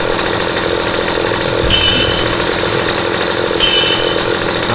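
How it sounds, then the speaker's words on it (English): A chainsaw in the video game Starforge runs loud and close at a steady buzzing drone, with two short revving bursts, and no talk over it. "I got another chainsaw."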